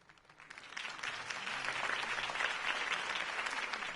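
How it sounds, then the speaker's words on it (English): A video game crowd in Batman: The Telltale Series breaks into applause after a political campaign speech, clapping swelling quickly from a few hands to a dense, steady ovation that holds at moderate loudness. "If only Mr. Wayne, my campaign's largest backer, could have heard that applause"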